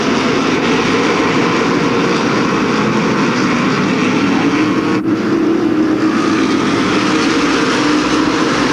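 Modified race cars roaring down the back straightaway of the Riverside Park dirt speedway, a loud, continuous engine drone from several cars at once, steady with no letup.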